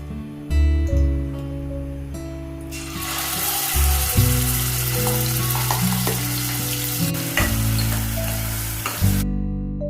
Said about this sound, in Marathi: मसाला भाजून घेणार आहोत।